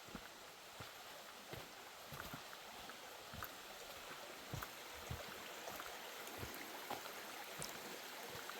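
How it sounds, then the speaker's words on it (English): A creek flows along a forest trail in the Smoky Mountains, a faint steady wash of water with scattered soft footsteps and rustles close by. "All I hear is the creek."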